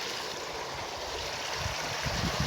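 A garden waterfall pours into a side channel in a steady, close rush of flowing and splashing water that stays broadband and unbroken, with no voices.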